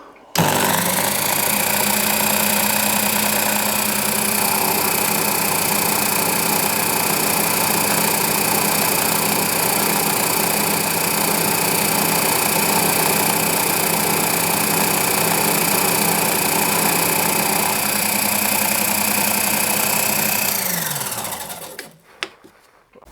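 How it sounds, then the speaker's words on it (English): A milling machine takes a very light climb-milling finishing pass on a part for a small finger engine, a steady loud machine drone with a constant whine and hum that runs unbroken for about twenty seconds, then spins down and stops. "I'm going to take a very slight climb milling cut, hopefully just to finish it off."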